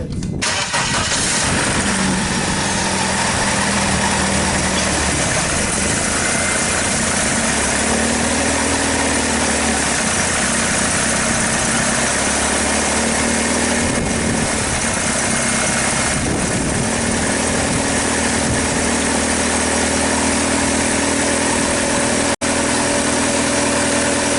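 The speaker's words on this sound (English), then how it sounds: "I'm going to start the vehicle up" A BMW 318i engine cranks and catches right at the start, then settles into a steady, loud idle right up close for the rest of the time, with no one talking, just after its spark plugs were replaced.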